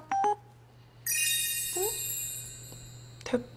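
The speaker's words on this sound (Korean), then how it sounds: "문자 왔쇽." A phone chimes with a short electronic notification for an incoming text message, a quick pair of tones followed by a longer bright jingle, close and clear amid a quiet background.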